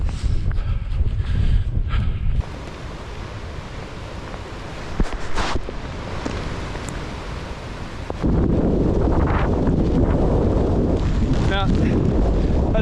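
Wind buffeting a microphone on an outdoor run, a steady low roar that dips slightly mid-way, then surges louder and denser toward the end as the runner turns into the wind.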